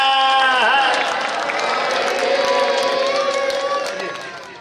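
A village crowd in Dhora ki Dhani claps and cheers steadily to welcome the Acharya, dense and loud throughout before tapering off at the end.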